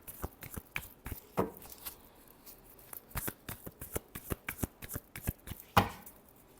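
Tarot cards are shuffled by hand in quick, uneven bursts of riffling and tapping, close and clear with no speech.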